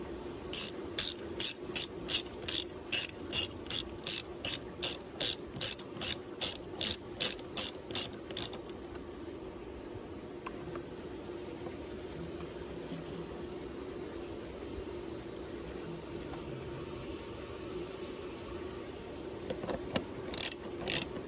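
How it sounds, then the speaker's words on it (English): A ratchet wrench tightens a 10mm screw on the plastic air filter hose clamp of a 2019-2025 Mitsubishi Xpander, giving about twenty rapid, close, even clicks over roughly eight seconds, then quiet, with a few more clicks at the end. "And we tighten up the 10mm screw."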